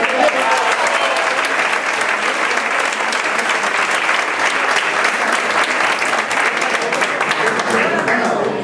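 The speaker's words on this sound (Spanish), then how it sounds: "Un aplauso porque la..." An audience at an interactive flamenco show in Algeciras applauds loudly and steadily, a dense wash of clapping hands that continues throughout.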